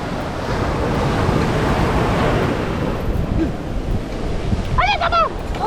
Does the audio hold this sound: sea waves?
yes